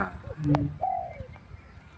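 A decoy bird calling outdoors, a couple of short cooing notes followed by a longer whistled tone, fairly close, over faint background noise.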